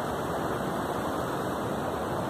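The Grahan river, a crystal-clear mountain stream on the trek from Kasol to Grahan village, rushes in a steady, loud, unbroken wash of water noise with no talk.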